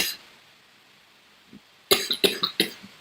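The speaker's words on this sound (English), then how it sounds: "I apologize about the coughing" A man coughs in a rapid burst of about five harsh coughs after choking on hot chocolate, following a stretch of near silence with a faint earlier cough.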